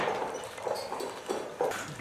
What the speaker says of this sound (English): Here come the horses that we just spent the sleigh ride on.